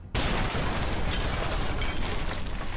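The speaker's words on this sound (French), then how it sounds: "la police décide tout simplement de faire sauter la maison" A house is blown up by police, starting with a sudden loud blast that flows into a sustained, roaring rumble of debris and noise that fills the clip.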